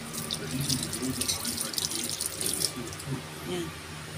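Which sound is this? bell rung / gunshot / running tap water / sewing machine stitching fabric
running tap water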